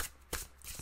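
A deck of cards being shuffled up close, with two or three quick riffling bursts in under a second, the loudest one right in the middle, and no one speaking.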